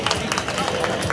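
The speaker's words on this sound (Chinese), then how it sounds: "现场朋友掌声欢迎" Live audience applause at a community karaoke singing competition final: a dense, continuous patter of clapping mixed with crowd murmur, brief and fairly loud.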